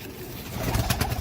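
Pigeons cooing close by in a loft, soft throaty coos repeating in quick succession over a low background hum, with no voices.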